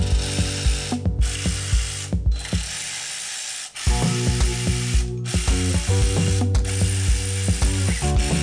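A hand ratchet tightens the flywheel bolts on a Miata during a transmission install, rapid clicking pawl bursts in repeated strokes with a brief pause midway, close and clear with no talk.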